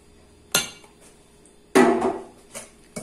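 A spoon stirring sugar and cream in a bowl for a pineapple dessert: a handful of sharp clinks and scrapes against the bowl, close, separated by quiet gaps.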